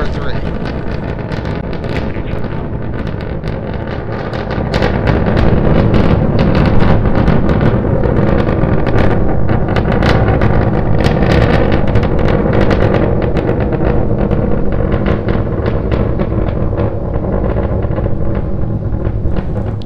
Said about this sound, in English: We're continuing to climb on 2 engines.